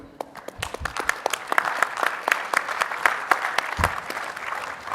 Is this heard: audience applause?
yes